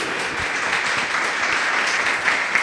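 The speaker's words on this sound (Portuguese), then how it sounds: "Louve a Ele com suas palmas" A church congregation claps together in sustained, dense applause during a worship service, steady and fairly loud throughout with no pauses.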